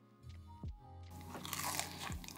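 Biting into a crispy fried Middle Eastern kibbeh meatball gives a close, loud crackling crunch followed by a second crisp bite.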